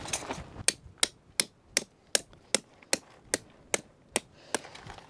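A sledgehammer drives heavy steel tent stakes into hard, rocky ground at a campsite: about a dozen sharp, evenly spaced metallic blows, close and loud, with no talk.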